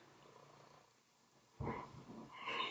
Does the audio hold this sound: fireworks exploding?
no